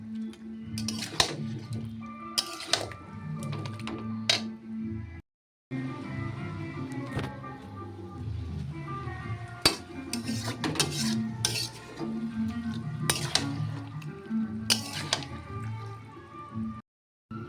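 Chicken pieces being stir-fried and browned in a pan for a festive home-cooked curry, with steady scraping and clattering of a spoon against the pan, a wet sizzling bed underneath, and a brief pause partway through.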